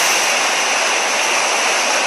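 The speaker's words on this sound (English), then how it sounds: "I hear the ocean." Ocean waves make a loud, steady, broadband rushing wash that stays continuous and close, with no breaks or talk.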